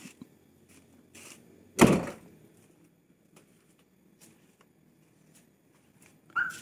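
Rear door of a Mazda Vantrend car shutting with one solid, loud thunk in an otherwise quiet setting, with a few faint clicks and small handling noises before and after.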